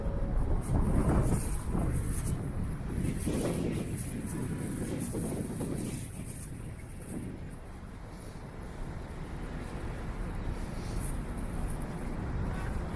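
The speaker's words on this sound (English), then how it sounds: "The wind is like full on gusts at some points." Strong winter wind buffets the microphone in heavy gusts on a city street in Yorkville, Toronto, a broad roaring rumble that swells and eases, with faint traffic noise underneath.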